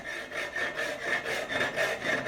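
A hand saw starts a rip cut in wood, with rhythmic rasping strokes close by, about five even back-and-forth passes, each a short gritty swell of sawing noise.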